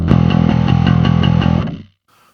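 A gritty, distorted metal bass guitar plays a short run of low repeated notes, with everything above 6.5 kHz cut for a dull, muffled top end, then cuts to near silence.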